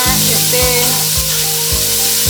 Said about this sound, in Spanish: Freímos hasta que la cebolla esté